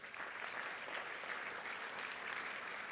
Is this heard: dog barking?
no